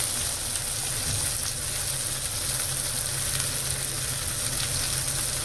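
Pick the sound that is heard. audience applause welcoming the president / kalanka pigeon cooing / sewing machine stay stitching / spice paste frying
spice paste frying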